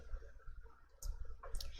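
Computer mouse clicks while working in an Excel spreadsheet, two or three small close clicks over a low background hum, with no talking.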